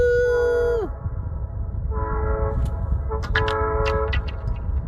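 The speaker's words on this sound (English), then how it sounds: "so here comes the train" A train horn blares in Nenana, Alaska, one long loud blast that drops off, then a pause before a second horn sounds in shorter bursts as the train rumbles past, with clanking and rail noise underneath.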